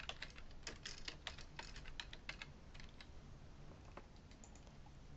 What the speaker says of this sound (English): I'm going to start typing in here